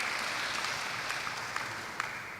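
Audience applause at a student tourism symposium, a soft, steady patter of clapping from a moderate crowd, heard at some distance with a few sharper individual claps standing out.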